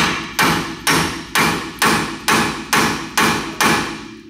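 A hammer taps a chisel into a Ford Ranger ball joint, eight sharp metallic strikes at an even, unhurried rhythm, each ringing briefly before the next, close and loud with no talking.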